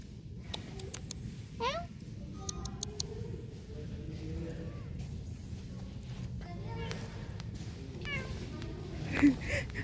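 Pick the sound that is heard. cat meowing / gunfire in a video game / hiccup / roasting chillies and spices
cat meowing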